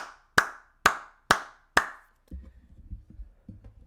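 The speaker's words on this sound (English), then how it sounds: "I want to give a good golf clap" Four slow, evenly spaced single hand claps ring out crisply and close, a deliberately sparse golf clap, followed by a low, muffled rumble of indistinct sound.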